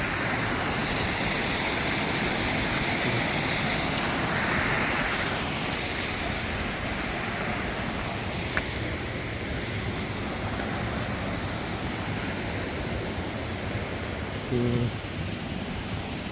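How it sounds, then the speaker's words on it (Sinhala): Water rushes continuously in a broad, steady roar like a flowing stream, with a short faint knock close to the end. "මෙතනින් මේ වතුර පාර ගලාගෙන යන්නේ."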